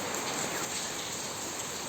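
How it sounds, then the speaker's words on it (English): Steady rain hisses evenly throughout, a dense close patter of drops with no breaks and no voices. "I'm sorry for the rain."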